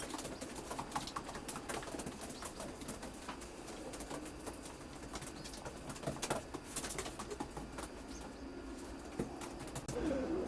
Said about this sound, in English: These pigeons are now paired up and feeding